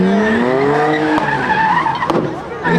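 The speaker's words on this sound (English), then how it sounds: "You've got to make sure that traction's off and just get them wheels spinning." A car at a London takeover car meet skids with its wheels spinning, tyres squealing loudly in wavering pitch over a revving engine, close, with crowd noise around it.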